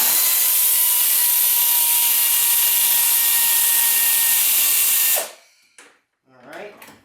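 Working on a Honda Civic, a power tool whirs steadily and loudly while backing out a 12mm bracket bolt, then stops abruptly, followed by brief clinks and a short rustle.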